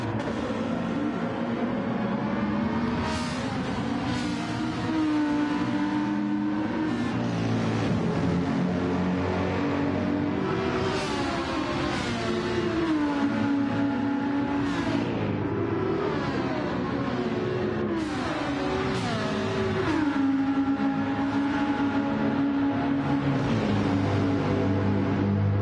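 Race cars on the Interlagos track in a racing video game, engines droning steadily and close with rising and falling pitch as gears shift, continuous throughout with no talk.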